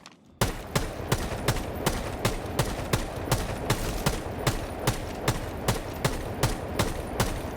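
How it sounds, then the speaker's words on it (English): Assault rifle fire hammers a barricade in Rainbow Six Siege, a long, loud run of evenly spaced single shots, roughly twenty in steady rhythm, each with a sharp crack and short tail. "only takes 20 bullets to destroy as long as you're using an assault rifle, pistol, or a submachine gun"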